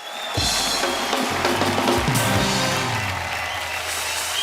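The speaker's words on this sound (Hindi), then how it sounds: "एक बार जोरदार तालियां हो जाए पूरे दिल्ली वासियों के लिए।" Studio audience applause on a TV comedy show, a loud, dense wash of clapping that swells in after a brief pause and holds steady to the end with no talking over it.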